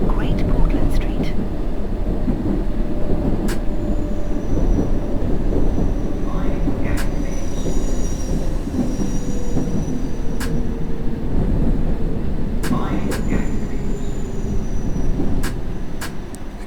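London Underground Circle Line train running in the World of Subways 3 simulator game, a steady loud rumble of wheels and motor throughout with a few brief clicks and tones, under an automated announcement voice.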